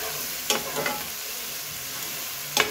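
Tomato is stirred into frying ampalaya, bitter gourd, with sardines and eggs, a steady close sizzle broken by a few sharp scraping stirs of the spatula.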